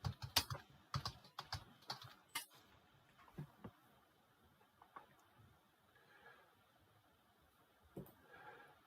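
Typing on a computer keyboard, with quick close bursts of clicking keys in the first few seconds, then sparser, fainter taps with long gaps, under a quiet room hiss.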